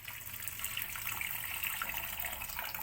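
Water is poured into a pot of cooking beef rendang, a soft, steady splashing gush that lasts throughout at low volume with no voices.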